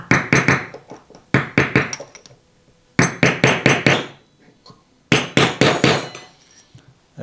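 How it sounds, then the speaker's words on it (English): A hammer taps a bearing out of a carbon wheel hub during a service, coming as four sharp bursts of several quick metallic knocks each, close and loud, with short pauses between the bursts. "Just get a hammer and give it a little tap."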